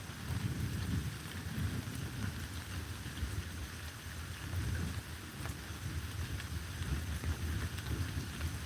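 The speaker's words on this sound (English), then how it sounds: "here comes the rain again" Steady rain pouring down during a storm near St. Louis, with a constant hiss and patter, broad and unbroken, with a faint low rumble underneath.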